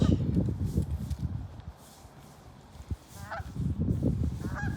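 A few faint, distant goose honks rise over a low rumbling outdoor background with some soft rustling, by a lake in a forest.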